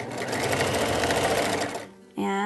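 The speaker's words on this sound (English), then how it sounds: "we're going to just sew right across and sew it back on" A sewing machine stitches fabric binding in a quick, close, rapid mechanical whir for nearly two seconds, then stops as a voice starts speaking.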